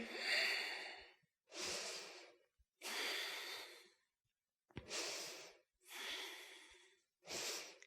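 Slow, steady breaths during a vinyasa yoga practice, six long airy inhales and exhales in an even rhythm separated by brief silences, close to the microphone with no talking.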